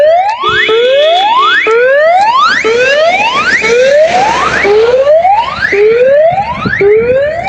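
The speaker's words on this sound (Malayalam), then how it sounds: "ബിംസ് മെഡിക്കൽ കോളേജ് ആ കാസർഗോഡുണ്ട് അവിടത്തേക്ക് ആംബുലൻസ് പോവുകയാണ്" An ambulance siren wails loudly and close by on its way to a medical college in Kasaragod, with repeated rising whoops sweeping upward over several seconds and no talking.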